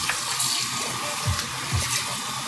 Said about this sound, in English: This is cold water. I'm not even gonna use hot water on this.